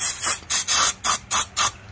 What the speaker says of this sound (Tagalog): Throttle body cleaner. No? So, spray ka lang dyan.